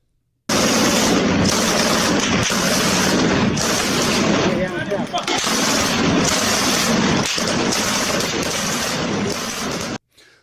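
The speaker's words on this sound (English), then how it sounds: "this guy is just putting rounds down range" Sustained heavy automatic gunfire, a machine gun putting rounds down range at a military range, loud and continuous with dense overlapping bursts for about ten seconds and short gaps between strings of shots.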